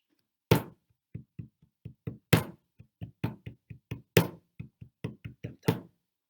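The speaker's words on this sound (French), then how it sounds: "Tam-tam, qui se rapproche." Hand-tapped tom-tom drum beats in an uneven rhythm, sharp dry strikes with a few louder accents among softer ones, clear and fairly close, with no voice over them.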